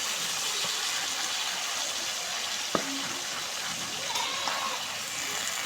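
Ridge gourd and potatoes hit a hot pan of cooked spice paste, giving a steady, close hiss of frying with faint scraping and stirring clinks.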